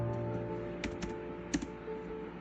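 Keystrokes on a computer keyboard while Python code is being written, a few soft scattered taps over a steady low background hum, faint and close.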